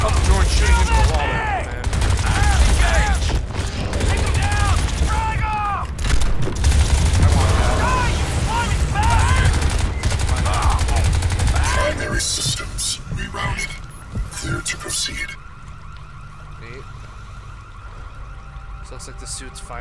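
Rapid automatic gunfire and explosions from the video game Crysis 2 crackle loudly over game voices and shouting, then give way to a quieter electronic hum.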